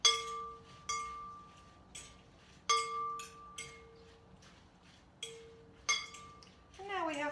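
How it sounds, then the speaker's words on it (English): Metal forks stirring a side salad in a glass bowl, producing sharp ringing clinks at irregular intervals, each followed by a fading glassy tone, close and fairly quiet with brief talk near the end. "I'm gonna just take a couple of forks and stir that all up."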